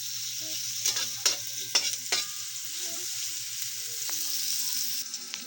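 Tomatoes and freshwater shrimp sautéing in a pan, a steady sizzle broken by several sharp scraping stirs early on, then softer stirring noises over the frying.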